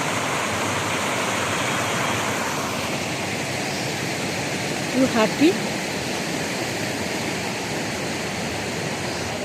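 Steady broadband rushing water of the Geetkhola river in Kalimpong, flowing nearby after rain, continuous throughout with a brief voice speaking over it midway.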